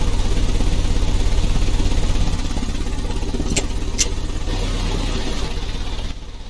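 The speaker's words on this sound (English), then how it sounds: "The engine has started." Car engine idling in the Sherlock Holmes: Crimes & Punishments game, a steady low rumble with two short sharp clicks, the engine note dropping and fading near the end.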